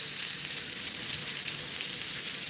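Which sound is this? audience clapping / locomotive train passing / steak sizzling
steak sizzling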